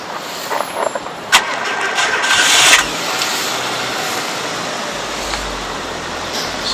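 A car engine cranks and catches in freezing Siberian cold, a short burst of starter whine followed by the engine settling into a steady idle that runs on near and fairly loud.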